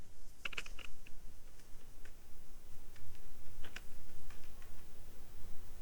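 Typing a web link on a computer keyboard: soft, scattered key clicks in short bursts, faint and close, over a quiet room hiss with no talking.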